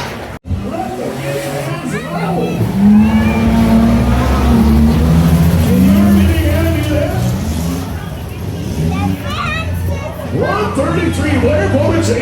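Baja race trucks rev and race around a dirt track at the Marshall County Fair in Warren, MN. Loud engine roar and revving come under a crowd and an announcer talking over a public address system.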